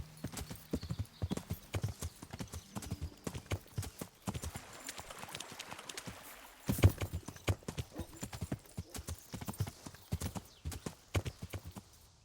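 Horse hooves clip-clop steadily in the video game Kingdom Come Deliverance, a brisk, continuous rhythm of hard strikes with one heavier thump partway through, close and dominant throughout.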